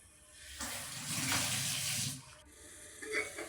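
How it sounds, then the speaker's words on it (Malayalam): Tamarind water comes to a boil in a covered pot, a soft hissing, bubbling surge that swells for about two seconds and then fades, quiet overall. "പുളിവെള്ളം ഇങ്ങനെ തിളച്ച് വരുന്നുണ്ട്."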